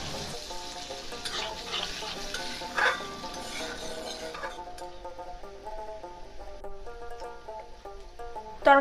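Mustard paste frying in a pan for a roselle leaf and fish curry, an up-close sizzle with stirring scrapes that thins out midway, then a sharp clatter at the finish.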